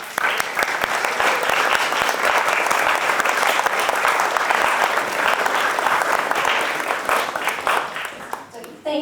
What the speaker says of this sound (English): I just want to give you one more big round of applause